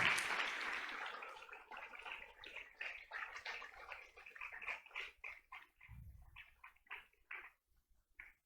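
A church congregation claps in a sustained, fairly even burst of applause that gradually thins into scattered claps toward the end.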